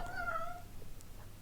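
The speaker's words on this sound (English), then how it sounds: "That's my cat." A pet cat gives one drawn-out meow, faint and close, in an otherwise quiet room.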